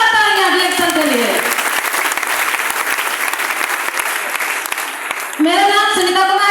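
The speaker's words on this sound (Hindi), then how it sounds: "जोरदार तालियां रिएक्शन के लिए।" Loud applause from an audience at a Hindi-speaking gathering, a dense wash of clapping sustained for several seconds, with a speaking voice heard briefly at the start and again as the clapping fades near the end.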